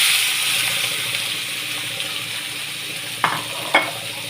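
Curry ingredients frying in hot oil after mustard seeds have popped, a steady close sizzle with occasional stirring scrapes and two sharp clatters near the end.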